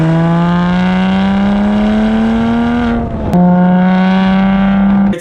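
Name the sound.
Porsche with straight-pipe exhaust revving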